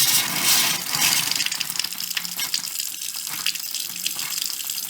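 Water and trapped air rush from a faucet after a water heater has been drained, a steady loud gush with irregular sputtering bursts running through the whole stretch.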